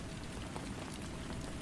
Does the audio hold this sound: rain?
yes